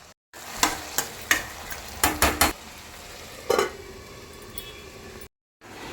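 Tomatoes with salt sautéing in a pan for an egg curry, a low steady sizzle broken by a series of sharp spatula scrapes and taps against the pan, with short silent gaps at the start and end.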